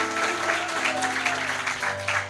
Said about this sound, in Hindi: जोर से ताली बजा सकते हैं यीशु के लिए।